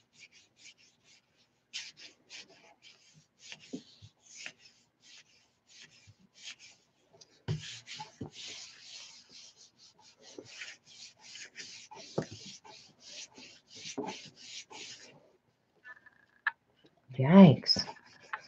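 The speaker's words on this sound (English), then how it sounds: "it needs more rubbing. I can see the acrylic isn't even wanting to come up yet" Paper is rubbed firmly over a Gelli plate to lift acrylic paint, making soft scratchy strokes in uneven bursts. The close scraping keeps going with pauses, and there is a brief sound of a voice near the end.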